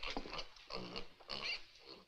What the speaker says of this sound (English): and there's a tiny pig.